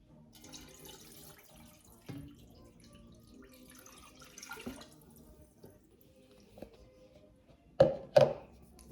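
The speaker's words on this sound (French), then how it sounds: "Nous allons y rajouter de l'eau" Water is poured into a pressure cooker holding sardines, a soft trickle followed by a couple of louder splashy knocks near the end, heard close and alone.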